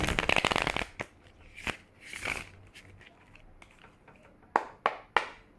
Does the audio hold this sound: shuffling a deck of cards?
yes